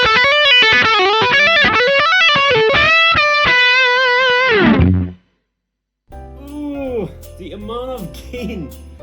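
A loud, distorted electric guitar through a Joyo amp's lead channel plays a fast lead line with reverb, cuts to silence, then resumes with bending notes.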